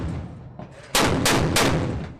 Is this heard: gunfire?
yes